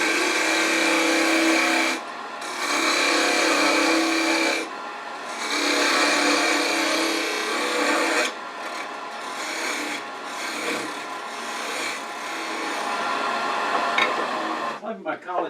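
A tenon being cut on a wood lathe, shaping a turned finial for an ornament: rasping, scraping passes lasting a few seconds each, separated by brief pauses over the constant hum of the spinning lathe.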